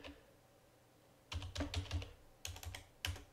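Computer keyboard typing while building a Django website, with a quiet pause, then two close bursts of rapid, clicky keystrokes and a final single tap, no voices.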